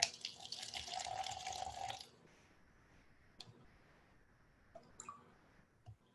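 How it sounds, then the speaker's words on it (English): Water runs steadily into a cup sitting on a kitchen scale for about two seconds, then stops, followed by a few faint drips and small clicks in a quiet room. "I'll set that on the scale, and I'll just weigh out 50 grams of water."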